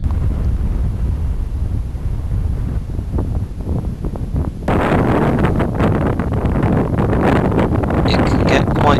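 Desert wind near Dunhuang, China, buffets the microphone with steady low roaring gusts that get much harsher and louder halfway through.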